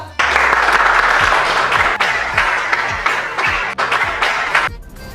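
Students in a classroom clap together, a loud, close burst of dense hand claps that runs continuously, with a voice speaking underneath as it fades near the end.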